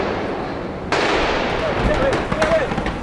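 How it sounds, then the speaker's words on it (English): Heavy gunfire and explosions during the armed attack on Westgate Mall in Nairobi, heard as a sudden loud burst of cracks and rumbling blasts at a distance, followed by continuing sharp reports amid crowd noise and voices. "we are hearing some heavy gunfire"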